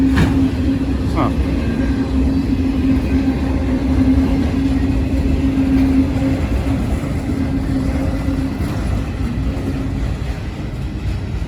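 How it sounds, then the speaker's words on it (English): A long freight train on the Indiana & Ohio Railway in Loveland, Ohio rumbles past at close range, a steady heavy roar of wheels on rails with a low droning hum that continues throughout. "That was a huge train."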